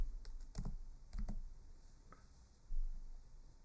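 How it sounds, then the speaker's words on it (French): Mouse clicks and keyboard keystrokes on a computer sound as a few sharp, close taps in small irregular clusters against a quiet room, with no talk. "et je clique sur exécuter."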